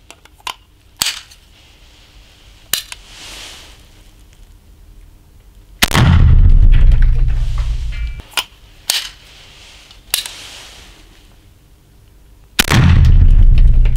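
A Gomm Cogne revolver fires buckshot shells at a target 9 metres away: two loud, booming shots with long rumbling tails, separated by sharp clicks and knocks from handling, with no voices.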